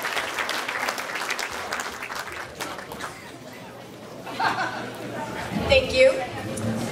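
Applause from an audience at an award ceremony rises near the end, moderately loud, with chatter and voices from the room talking over and around it.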